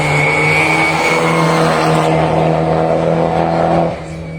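Peugeot 205 and 206 cars racing uphill on a short climb, a loud, sustained engine roar that holds steady before dropping away near the end.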